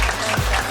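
Studio audience applause closing a Korean movie talk show segment, a brief steady burst of clapping at moderate level.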